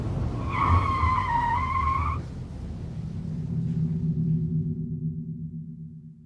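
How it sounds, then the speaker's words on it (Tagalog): A black car overtakes at speed on a road, its tires skidding with a sustained squealing screech that fades into a steady low engine rumble as it pulls away; no talk. "May isang itim na sasakyan ang mabilis na nag-overtake sa kotse ko, Miss Anne."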